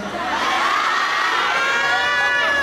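A large crowd at a concert stage at an industrial fair in Korat screams and cheers continuously, a loud sustained wall of shrill voices and whoops.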